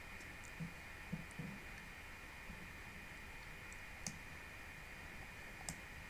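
A few sharp, quiet computer mouse clicks, spaced irregularly over a steady hiss, with no talking.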